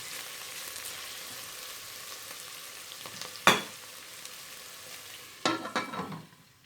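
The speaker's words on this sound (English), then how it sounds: "And then we fry it for approximately 1 to 2 minutes." Red curry paste frying in a rice cooker, a continuous soft sizzle with a couple of louder scraping stirs, close up and without voices.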